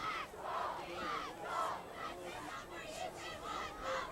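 Stadium crowd at a high school football playoff district championship game, cheering and chanting in rhythmic swells from a distance with a steady roar underneath.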